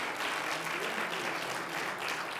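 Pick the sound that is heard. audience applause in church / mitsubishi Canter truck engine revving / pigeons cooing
audience applause in church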